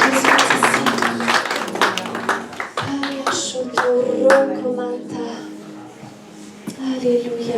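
A church congregation claps in a steady rhythm during worship, loud at first and fading, while voices sing and call out over the clapping.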